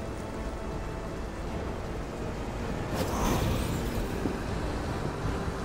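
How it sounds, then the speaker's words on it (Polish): Rain pours steadily in the video game V Rising, a dense continuous hiss that swells slightly louder partway through, heard alone without voices. "znowu ten deszcz spuścił"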